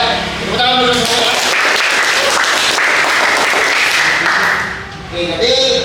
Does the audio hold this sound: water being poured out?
no